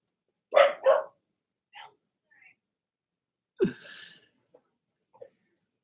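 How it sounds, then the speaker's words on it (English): A dog upstairs barks twice in quick succession, then a few fainter yips and a wheezy snort follow, heard indoors at some distance among quiet pauses. "I just heard the dog get yelled at for barking, so apparently the dog's being wild."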